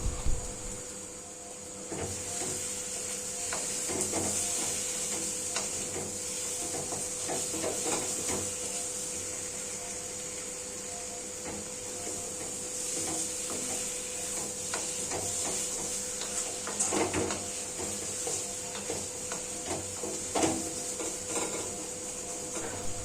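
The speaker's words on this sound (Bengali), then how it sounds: "আবারও ধীরে ধীরে আলুটা কষতে থাকবো।" Potatoes fry slowly in a pan with Kashmiri chili powder, giving a steady soft sizzle and hiss broken by frequent light spatula scrapes and clinks against the metal, close by.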